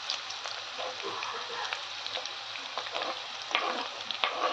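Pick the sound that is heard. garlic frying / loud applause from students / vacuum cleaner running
garlic frying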